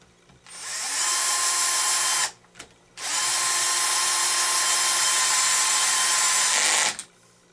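A power driver drives a screw into an aluminum hub carrier link, giving two long, loud, steady whirring runs with a brief stop and a small blip between them, close up.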